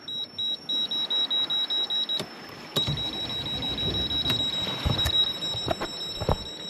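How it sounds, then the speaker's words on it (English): A rapid series of short, high electronic beeps from a sailboat's instruments repeats steadily, then stops and later resumes as a continuous tone over a low boat engine rumble with occasional clicks. "too many things beeping."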